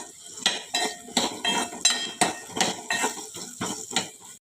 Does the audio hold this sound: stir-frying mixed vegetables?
yes